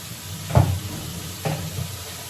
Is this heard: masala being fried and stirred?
yes